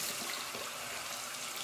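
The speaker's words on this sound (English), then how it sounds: "I just run it under the warm water and just squeeze it a couple of times" Warm water runs steadily from a tap over a konjac sponge, a constant hissing splash that stays even and close for the whole moment, with no talking.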